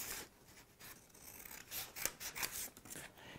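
Scissors cutting a folded paper sewing pattern along the neck curve and shoulder line, soft close snips and rustling paper in an irregular rhythm, quiet and alone.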